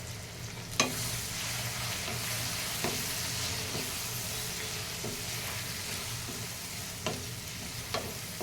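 Lemon pieces in a vadukapuli lemon pickle sizzle steadily in a hot pan, a continuous frying hiss broken by occasional stirring scrapes and soft clinks.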